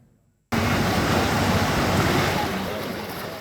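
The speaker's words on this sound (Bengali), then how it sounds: "অন্যদিকে বঙ্গোপসাগরের উত্তাল ঢেউ।" Rough surf of the Bay of Bengal breaking along a coastal char, a loud, continuous roar of crashing waves that starts abruptly and stays steady.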